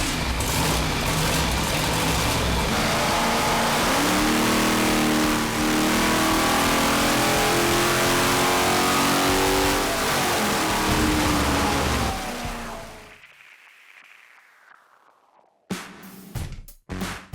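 A drag car engine with a Dart aluminum block roars at full throttle on a dyno, a loud sustained rising rev lasting about twelve seconds before cutting off into near silence, then brief blips.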